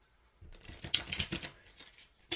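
Quick crisp riffling and flicking of tarot cards being shuffled close by, in short bursts with brief pauses.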